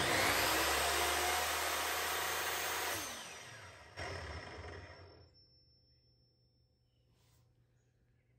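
A wood miter saw fitted with a steel cutting blade spins freely with a loud, steady high whine, then winds down after about three seconds and fades to near silence.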